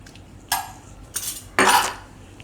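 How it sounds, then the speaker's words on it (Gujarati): A spoon mixes manchurian batter of flattened rice, rice flour and soy sauce in a bowl, making three short, close scraping clinks about half a second apart, with no voices. "હવે આ બધું આપણે મિક્સ કરી લેવું"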